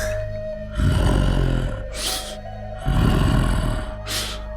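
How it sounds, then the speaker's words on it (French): A dying bear lying on dead leaves pants in broken, heavy breaths: two long, rough, rasping exhalations, each followed by a sharp hissing intake, loud and close with a steady low drone beneath and no talk. "Le souffle brisé d'un ours. Il repose sur un linceul de feuilles mortes, haletant dans l'agonie."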